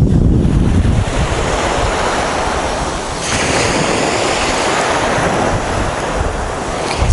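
Waves of the Sea of Azov washing onto the shore at Golubitskaya, a loud, continuous surf roar mixed with strong wind buffeting the microphone.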